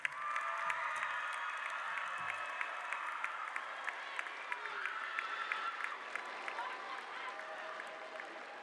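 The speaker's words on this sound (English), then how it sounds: "Please turn and give them a round of applause." A commencement audience applauds at a college graduation ceremony, sustained clapping with sharp individual claps standing out, heard at a moderate distance with light cheering mixed in.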